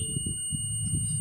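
A continuous high electronic beep from a digital multimeter on continuity test with a wire between its probes, holding steady for the whole moment over low rumbling background sounds.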